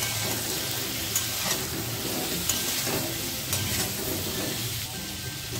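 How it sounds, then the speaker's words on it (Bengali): Pointed gourd (parwal) with salt and turmeric frying in hot oil in a kadai, a dense, steady sizzle and crackle filling the whole stretch, close and fairly loud, with no talking. "আরো কিছুক্ষণ পটলকে ভেজে নিতে হবে"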